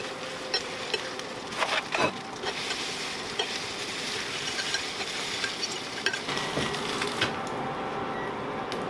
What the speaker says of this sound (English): that's the point that I will crack 2 eggs and a soft scramble a couple of eggs